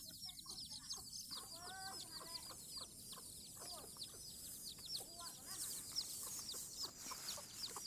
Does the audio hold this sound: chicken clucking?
yes